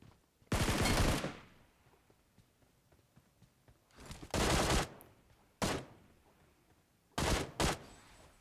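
Bursts of gunfire in the BGMI video game bring down a bot, loud short volleys separated by quiet gaps, with one brief single shot among them.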